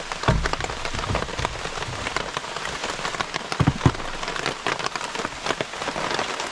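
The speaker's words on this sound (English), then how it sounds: "Delicious, yeah. Under the rain." Rain drumming on a campsite gazebo roof, a dense, close patter of drops with occasional heavier thumps, steady and loud with no voices.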